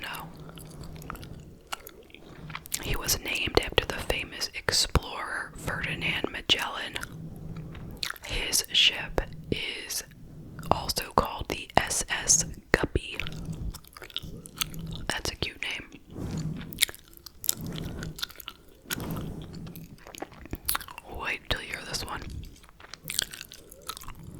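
Hubba Bubba Bubble Tape gum is chewed close to the mic in a long run of wet, sticky smacks and crackles, with soft whispered talk woven between the chews.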